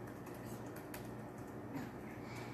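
Soft, quick keyboard typing, a quiet patter of keystrokes at close range, faint and continuous.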